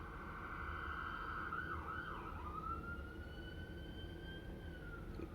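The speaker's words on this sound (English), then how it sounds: "That's police sirens." Police car sirens wail outside, a steady rising and falling tone that sweeps and then holds a long high pitch over constant low traffic rumble, fairly loud and continuous with no talking.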